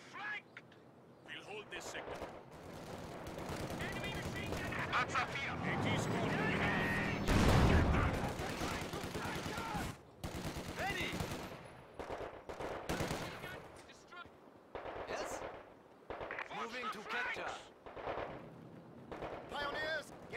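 Company of Heroes 2 battle audio: machine gun fire and other gunfire rattle in bursts, with heavy artillery-like blasts building and a loud explosion near the middle, while game voices call out orders.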